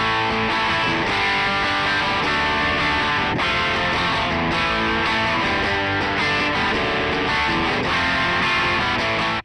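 Electric guitar played through a Harley Benton JAMster amp on its drive tone at level 3 gain, a dense, loud, continuously overdriven riff with chords and notes blending, no talking.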